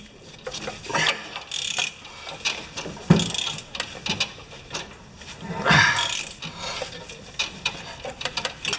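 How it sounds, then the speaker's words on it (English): A ratcheting wrench works on the flat panels of a Mastercraft MTD snowblower drive system, giving close, loud bursts of rapid ratchet clicks mixed with metallic clanks and handling knocks. "these ratcheting wrenches are better than anything because the snowblowers have flat panels"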